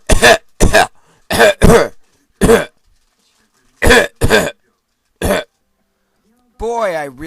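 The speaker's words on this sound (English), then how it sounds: "That's not gonna help your cough." Several short, sharp coughs in bursts, close and loud, with silent gaps between, followed by a brief spoken voice at the end.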